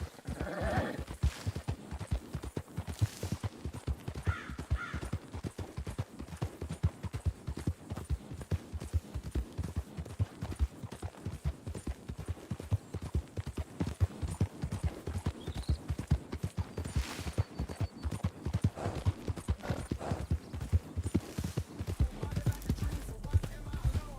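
A horse gallops in Red Dead Redemption 2 roleplay, its hooves a fast, steady clip-clop drumming on and on at close range, with a neigh or two and faint talk at the edges.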